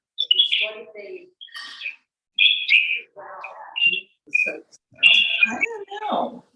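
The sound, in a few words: birds chirping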